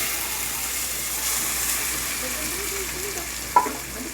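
Soft continuous sizzling of ground spice paste frying in a pan for fish curry, with a brief clink of a utensil near the end.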